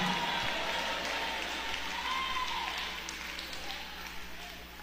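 A church congregation applauds in a sustained, dense patter that eases slightly toward the end, with voices mixed in under the clapping.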